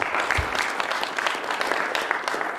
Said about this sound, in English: let's just give one more round of applause to all the candidates